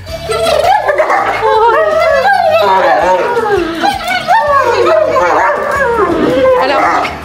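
An excited dog barks, yips and whines repeatedly up close while people talk and exclaim over it.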